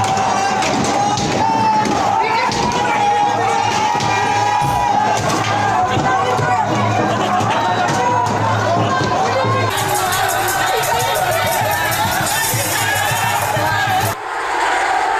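A dense, unruly crowd of hundreds gathers at a gurdwara gate for Hola Mohalla, a loud sustained roar of shouting voices and battle cries that runs without pause and ends abruptly.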